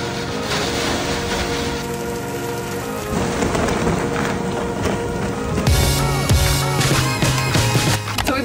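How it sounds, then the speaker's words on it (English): Thunderstorm with steady heavy rain pouring near a truck in the Florida Keys, a loud continuous wash of rain with deeper rumbling swelling toward the end as lightning strikes close by. "And some lightning just hit right nearby."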